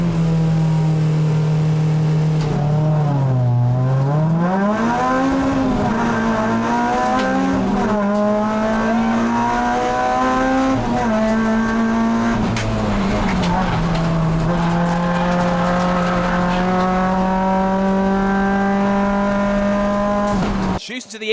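Honda racing cars, including Civics and an Integra, pull away from the start at Brands Hatch in Kent, engines droning loud and sustained with rising and falling pitch as they accelerate through the gears.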